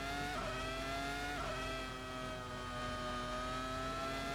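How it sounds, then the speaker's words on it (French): Ferrari Formula 1 cars from a 2002 Melbourne race recreation in Assetto Corsa whine along the pit lane, their engines droning in a steady high-pitched tone that dips and shifts slightly, continuous and fairly loud. "Alors que les Ferrari passent au stand."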